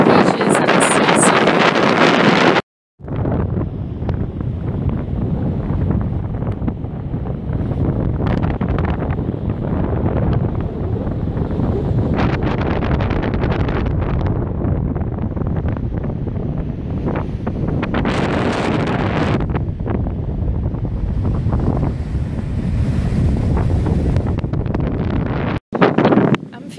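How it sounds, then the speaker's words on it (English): Harsh seaside wind buffets the microphone in a steady, loud roar for most of the stretch, with brief cut-offs near the start and end and faint surf beneath. "the wind is really harsh"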